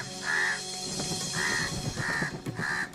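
Small birds mobbing a small owl, with a series of four harsh, nasal caws spaced about half a second apart over a busy chatter of other calls, close and fairly loud.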